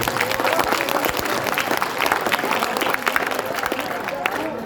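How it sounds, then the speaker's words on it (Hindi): Audience applause at a Class 12 school farewell ceremony, a steady wash of many hands clapping close and loud for the full stretch, with some voices mixed into the crowd. "एक बार इसके लिए आपको जोरदार जो है तालियों गड़गड़ा करना चाहिए।"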